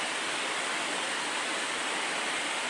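Waterfall at natural springs in Santa Maria, Laguna, a steady broadband rush of falling water, loud and continuous with no pauses and no voices.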